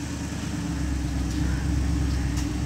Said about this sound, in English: So exhaust is like really makes a cool sound.